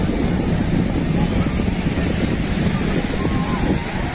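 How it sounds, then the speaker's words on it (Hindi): Ocean surf at Juhu Beach in Mumbai, a steady broadband wash of waves and wind rushing continuously near the microphone with no clear breaks between swells. "ये देखें जी लहरें आ रही हैं मेरी तरफ"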